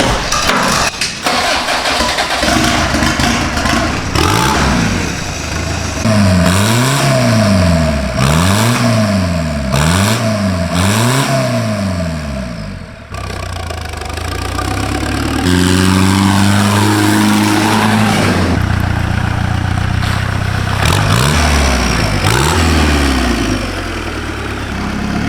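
A Toyota pickup with a swapped-in TDI diesel engine on a test drive, its engine loud and close, rising and falling in repeated revving sweeps through the gears, with a short dip midway before pulling again.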